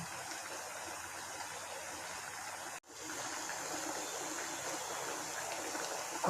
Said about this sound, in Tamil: இப்போ குழம்பு கொதிச்சிட்ருக்குங்க.